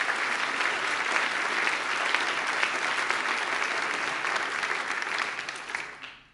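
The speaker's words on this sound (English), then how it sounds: "another round of applause for them" Sustained audience applause for the Berliner Philharmoniker musicians at an awards ceremony, a dense steady wash of clapping from a large crowd that holds evenly for about six seconds before tapering off at the end.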